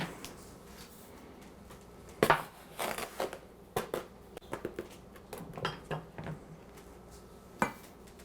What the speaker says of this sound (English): So what we need to do first in our pan, we're going to put 2 cups of sugar.